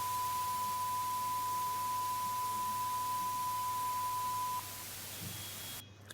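A steady pure sine-wave test tone sits over a bed of added dither noise, holding unchanged for about four and a half seconds before the tone stops and the hiss continues alone, then cuts off.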